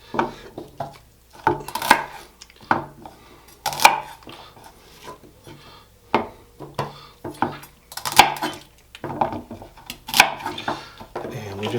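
Celery chopped on a cutting board, with irregular bursts of sharp knife knocks against the board coming in quick clusters and pauses, close and fairly loud.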